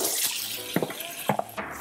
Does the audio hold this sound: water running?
yes